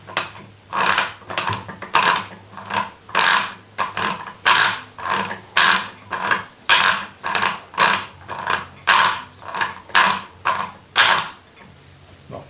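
A Brastemp/Consul washing machine agitating with a fault gives a loud, rhythmic grinding, ratcheting noise in regular bursts about every two-thirds of a second, close and continuous with no voices.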